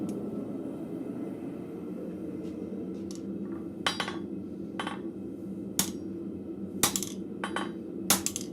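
Blacksmith at a forge tightening the jaw bits on a pair of tongs, sharp metallic clinks and taps struck every second or so over a steady background hum of the shop.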